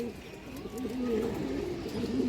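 Domestic pigeons coo close by, a low throaty warbling call rising and falling over a soft background rumble.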